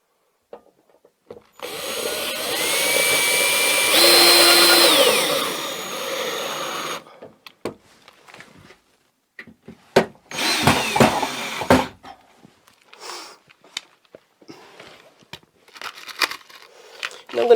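A power drill drives screws into a Leviton circuit breaker load center, one long whirring run of several seconds near at hand, followed by shorter bursts and clicks as further screws go in.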